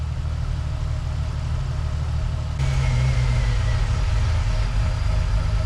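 A Jeep Wrangler engine with a rough idle runs close by as a steady low rumble. Partway through it steps up to a louder, steadier drone.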